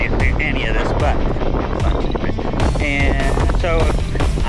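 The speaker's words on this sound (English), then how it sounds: "Super windy" Strong wind buffets a microphone outdoors at mile 20 of the Lake Wobegon Trail Marathon, a loud rumbling low roar running throughout under a woman's speech and other voices.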